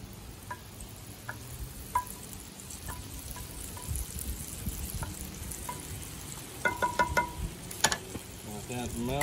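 Two sticks of butter melt in a pan on a Big Green Egg ceramic grill, giving a soft, quiet sizzle with scattered crackles and pops that grow busier toward the end.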